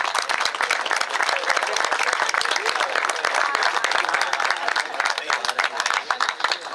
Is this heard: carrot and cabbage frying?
no